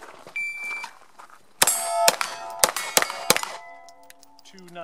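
Shots from a CZ P09 pistol ring off steel targets in a rapid sequence of bright metallic clangs and dings with lingering ringing tones, heard up close with some voices nearby.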